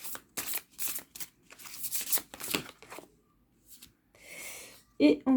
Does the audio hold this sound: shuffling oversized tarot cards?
yes